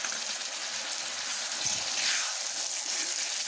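Chopped tomatoes hit a pan of onions fried until red, a continuous loud sizzle and hiss with a brief low thump as they drop in, no talking.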